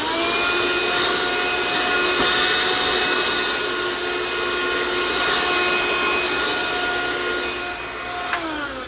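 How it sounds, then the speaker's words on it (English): A vacuum cleaner runs continuously at a steady, loud, close-range whine, easing off slightly near the end, with no talking. "Hold on, I'm going to vacuum again."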